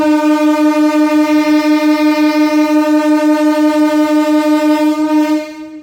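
A MEMU train departing Machilipatnam station sounds one long, steady, loud horn blast that holds for about five seconds and then cuts off.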